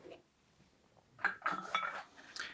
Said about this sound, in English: Let me move the weights aside and flip it over.